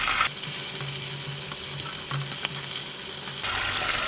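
Dongpo pork belly frying in a pan as the lid comes off, a steady sizzle and crackle of hot fat that brightens and grows louder when uncovered, with a few small knocks.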